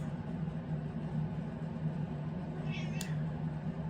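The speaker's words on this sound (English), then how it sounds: "Listening to the sound of my cat meow" A single brief cat meow rises near the end over a constant low hum of background noise.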